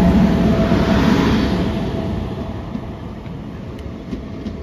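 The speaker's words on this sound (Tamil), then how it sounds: "நம்ம ட்ரெயின் வந்தாச்சு, ஷார்ப்பாக வந்துச்சு." A passenger train pulls into a station on a trip from Chennai toward Coorg, with a loud, heavy rumble of wheels and carriages up close that slowly eases off, then faint clicks and knocks, without any talking.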